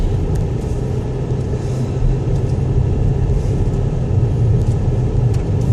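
Steady low engine rumble and road noise heard from inside a moving car, continuous and even throughout with no voices.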